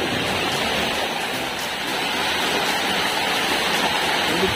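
Free-flowing spring water on an island gushes in a steady, loud, broadband rush close by, constant throughout with no talk.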